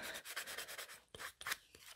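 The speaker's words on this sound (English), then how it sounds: "I'm going to sand that edge down" A sanding pad is rubbed along the edge of an embossed copper tiger pendant, giving quiet, rapid back-and-forth scratchy strokes close up, with a few slightly louder scrapes near the end.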